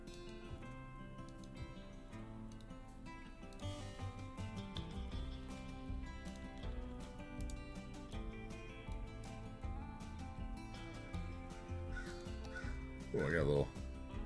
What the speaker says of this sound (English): birds going by. Nice. The black crow.